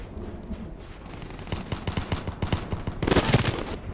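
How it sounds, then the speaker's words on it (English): Rapid gunfire in Call of Duty Black Ops III: a steady run of sharp shots building into a louder, denser automatic burst near the end, with game effects in the background. "What kind of gun is she using?"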